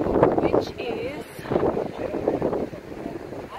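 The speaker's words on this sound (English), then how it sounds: "it's very windy, but we are going to the lighthouse" Strong gusting wind at a seaside lighthouse on Flagstaff Point in Wollongong buffets the microphone in loud, rumbling surges, with voices partly masked beneath the roar.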